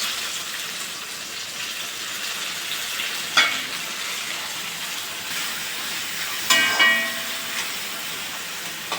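Onions and tomatoes frying together in a pan for a Kerala-style poha upma, a steady sizzle with a couple of sharper stirring clatters, close and alone with no talk.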